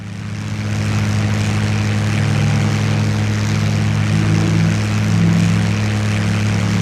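A WWII fighter's engine drones steadily in a multiplayer flight game, a loud constant propeller roar that swells in slightly at the start and then holds even throughout, with no voices.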